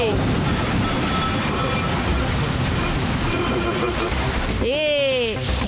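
A cartoon-style magic rain effect: a steady, dense rain-like hiss pours throughout, and a bright, sweeping chime-like tone bends up and down near the end.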